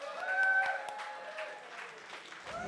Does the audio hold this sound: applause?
yes